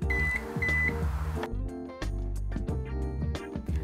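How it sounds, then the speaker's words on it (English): A car's power tailgate buzzer sounds as two short, steady electronic beeps near the start, over a loud background of music. "Close the tailgate after hearing the buzzer sound."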